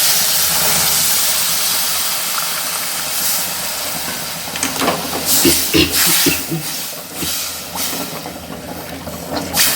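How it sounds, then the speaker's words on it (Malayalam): Tamarind water poured into hot spices sets off a loud, bubbling hiss partway through, rising in sharp, crackling bursts over a steady sizzle. "ആ സമയത്ത് നമുക്ക് ഈ പുളി വെള്ളം ചേർത്ത് കൊടുക്കാം"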